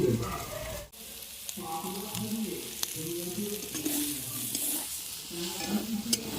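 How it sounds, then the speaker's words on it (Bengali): Fried prawns stirred and sautéed in a pan with spices, a soft steady sizzle broken by occasional scrapes of a spatula, close and moderately quiet. "এবারে ভেজে রাখা চিংড়িগুলি দিয়ে আরও একটু সময় কষে নেব"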